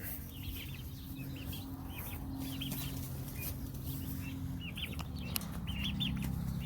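Turkeys on a poultry farm giving repeated short clucking and gobbling calls, scattered and somewhat distant over a low steady rumble, with no talking.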